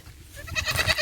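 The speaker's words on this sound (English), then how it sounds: "What a big old goat." A big goat bleats in a countryside setting in Jamaica, a few rough wavering calls rising in loudness toward the end, close and clear with no talk over them.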